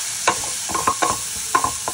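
Onions with turmeric, salt and a pinch of asafoetida are stirred in a frying pan, a soft sizzle under several quick scraping spoon strokes, close and steady with no voices.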